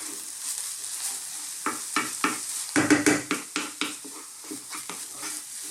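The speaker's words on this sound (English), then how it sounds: "Keep stirring it, because like I said, we don't want to fry this really." Tomato sauce cooking gently in a pan while being stirred, with a soft sizzle under a series of rhythmic spoon scrapes and clinks against the pan, close and moderately loud.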